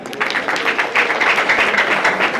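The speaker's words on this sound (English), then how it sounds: "Please clap for them" A group of students claps for a class during an address, producing a brief, dense burst of loud applause with quick overlapping hand claps.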